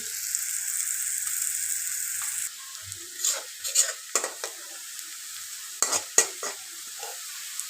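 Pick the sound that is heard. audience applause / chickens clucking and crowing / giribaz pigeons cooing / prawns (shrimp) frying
prawns (shrimp) frying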